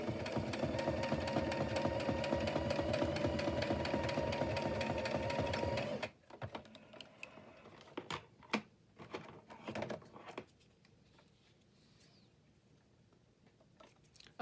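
A sewing machine stitches a paper piece for a decorated journal page, running at a fast, even, close mechanical whir for about six seconds before stopping, followed by a few light handling clicks and rustles.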